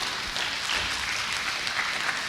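Audience applause at a medical college conference event, a steady wash of many hands clapping at moderate level without talk, continuous for a couple of seconds.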